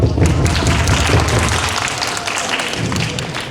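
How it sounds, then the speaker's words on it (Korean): Audience at a high school research presentation gives a loud round of applause, dense and continuous, gradually thinning toward the end. "박수 한번 주세요"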